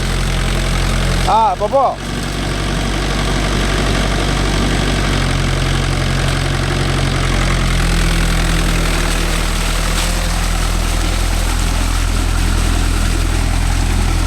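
A Mahindra 575 DI tractor with cage wheels working a muddy rice field: a loud, steady diesel drone with a deep throbbing hum, continuous throughout, while someone speaks briefly over it near the start.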